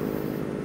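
A motorcycle engine running steadily and close by on a road in Manaoag, Pangasinan, giving a brief, constant buzzing drone with no talk over it.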